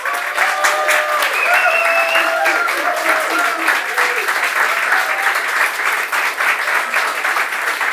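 A debate audience claps steadily and densely for about eight seconds, a full room of applause with some voices mixed in.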